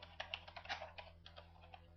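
Clicky, moderately faint keystrokes on a Windows computer keyboard tap out a quick irregular run of about a dozen presses, typing a command with no voice over it.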